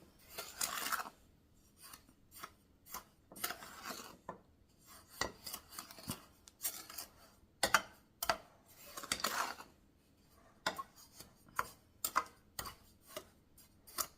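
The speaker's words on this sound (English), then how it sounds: "I want to give it a first initial stirring with my spoon." A spoon stirs batter in a bowl for Christmas baking, with irregular soft scraping strokes and sharp clicks of the spoon against the bowl, fairly close and quiet, with no talking.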